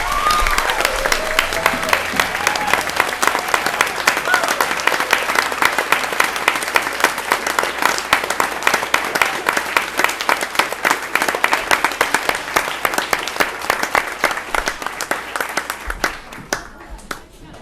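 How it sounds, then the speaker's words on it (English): Sustained audience applause at a school ceremony, dense rapid clapping from a crowd holding loud and steady for about sixteen seconds before thinning out, with faint voices underneath. "Can we give a big round of applause to current grade 7?"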